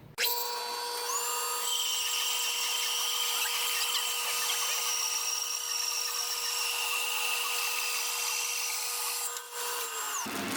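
A Little Ripper mini bandsaw sawmill quarter-sawing a log gives a steady, loud, high-pitched whine with a rough cutting rasp. It runs unbroken for about ten seconds, then cuts off abruptly.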